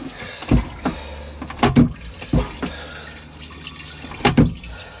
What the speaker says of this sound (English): Let's release some water. Let's clean that off a bit, shall we?